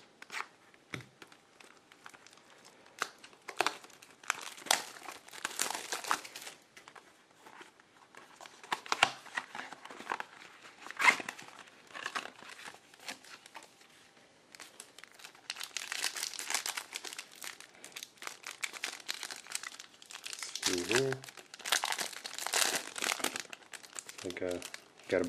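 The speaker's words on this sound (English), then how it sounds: "Got a bunch of cards here" Topps Triple Threads football trading card packs being opened, with repeated crinkling and tearing of foil wrappers and shuffling of cards in irregular bursts, close and fairly quiet, while a person talks intermittently.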